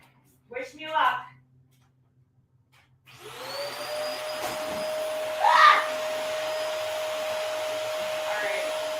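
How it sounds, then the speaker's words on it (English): Vacuum cleaner switched on to suck up a cricket indoors, starting with a rising whir and then a steady high-pitched drone with a brief louder rattle partway through, after a short burst of a voice beforehand. "I need to vacuum this up."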